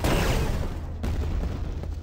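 Rapid gunfire from the video game Quake II during a competitive grand final match, a dense burst of overlapping shots and impacts, loud and continuous with a brief break near the middle.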